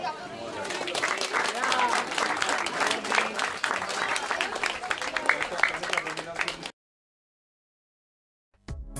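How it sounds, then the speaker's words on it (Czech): A crowd at a small-town triathlon claps loudly and steadily for a closing group photo, with chatter mixed in, before the applause cuts off abruptly into silence and a brief burst returns at the end. "A ještě jedno bude velký potlesk."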